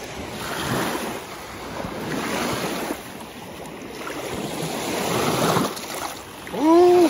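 Lake Michigan waves wash in and recede in slow, repeating surges near the shore, with wind buffeting the microphone and a short voice heard near the end.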